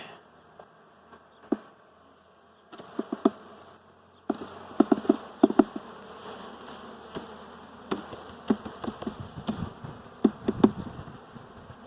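Honeybees hum in a continuous drone around a hive during an inspection, close by, with scattered knocks and taps of handling over the buzzing.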